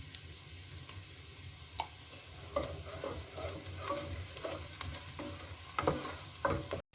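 Fried onions crackle in a pan as half a teaspoon of turmeric is stirred in for Karabakh soup, a steady low sizzle with scraping spoon strokes and light clicks throughout.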